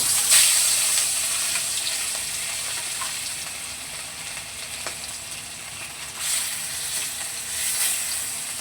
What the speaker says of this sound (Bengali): তেলটা গরম হয়ে গেছে, প্রথমে আমি মাছগুলোকে ভেজে নেব।